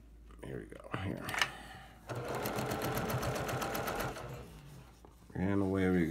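Sewing machine stitching fabric pieces together for a pinwheel quilt, a steady rapid mechanical whirring run of about two seconds with brief starts before it, and a person talking at the end.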